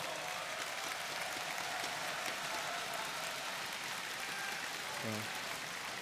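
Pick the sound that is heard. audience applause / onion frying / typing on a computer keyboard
audience applause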